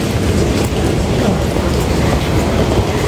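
An MRT train in Taipei heard from inside a carriage, a loud, continuous rumble with rhythmic wheel clatter and no talk.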